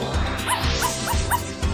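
A cartoon dog, Crypto the Super Dog, gives a quick series of four short barks and yips over a busy background of music and sound effects.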